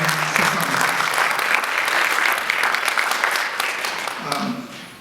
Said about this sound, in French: encore une fois, je voudrais faire un applaudissement pour Frédéric et sa